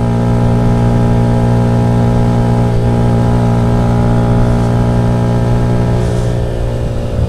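A small Bajaj Rouser NS125 motorcycle engine hums steadily at close range, a constant low drone that holds even throughout with no talking.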